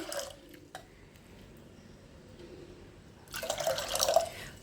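Water goes into a pot of washed lentils for sweet Bengali mitha dal. Faint drips and quiet handling come first, then a louder, splashy pour near the end.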